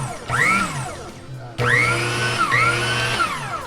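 A Sokany electric meat grinder motor whirs steadily once switched on, a close, loud whine with a brief dip and restart partway through, with no talk over it.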